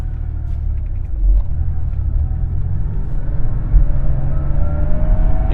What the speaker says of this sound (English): You could hear the engine roar behind you